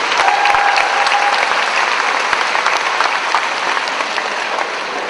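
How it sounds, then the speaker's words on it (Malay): A hall audience at a university debate championship final applauds loudly and continuously, a thick wash of clapping with a faint steady tone underneath. "Yang pertama kita berikan tepukan"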